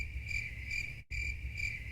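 A crickets chirping sound effect plays as a steady, pulsing trill over a low hum, briefly cut by a split-second gap of silence midway, with no voices.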